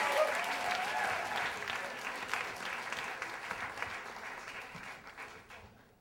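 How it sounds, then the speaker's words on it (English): An audience applauds as John comes up to read at a reading event, a broad wash of clapping that holds steady and then slowly fades out over about six seconds. "Big round of applause for John as he comes up"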